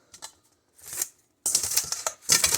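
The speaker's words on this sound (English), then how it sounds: "Take your scissors and cut them into pieces" Scissors snip fresh parsley stems into a bowl in a home kitchen, giving a few close, crisp cutting bursts separated by short pauses, with no talking.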